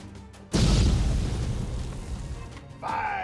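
A toy pirate ship cannon fires once, a sudden loud boom that rings out and slowly decays, followed by a short higher-pitched rattle near the end.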